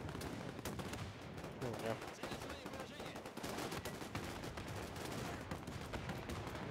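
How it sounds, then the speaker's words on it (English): Field gun fire in the Men of War 2 battle mixed into a dense stream of gunfire and explosions, repeated sharp bangs over continuous combat noise, with a brief spoken word. "Another field gun."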